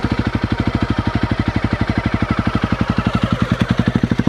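The engine of a KTM 390 Enduro R motorcycle idles on barely enough fuel, giving a close, rapid, even pulsing beat that stays steady throughout with no voices.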